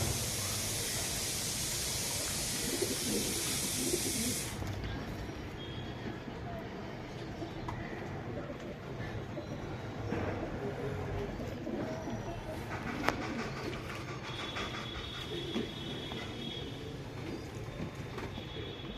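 Rakdar pigeons, two males and two females, cooing softly under a steady broadband noise that sounds like a passing train or traffic, with low murmuring voices in the background throughout.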